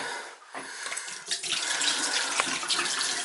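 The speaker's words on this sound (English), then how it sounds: "And open up all the faucets, leave them open." Water gushes from an open faucet in a seaside cottage after a brief quiet start, a steady hissing splash filling a sink nearby.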